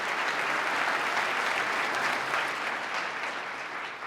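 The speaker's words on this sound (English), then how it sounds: "Let's give her a round of applause for the great job she's done." Sustained audience applause for Lieutenant Governor Kathy Hochul fills a large hall during a State of the State address, steady and dense throughout, easing slightly near the end.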